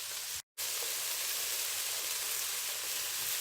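Cabbage, leeks and other vegetables for spring rolls sauté in a pan, giving a steady, even sizzling hiss that cuts out for a split second before carrying on.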